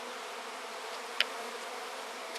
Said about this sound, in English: See if I don't tick these poor bees off.